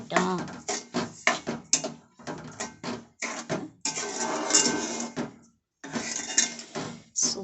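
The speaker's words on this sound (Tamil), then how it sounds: "நம்ம நல்லா கிளறி விடணும்." Sugar being stirred into kesari in a pan, with scraping and clinking strokes in uneven bursts and short pauses, heard close up.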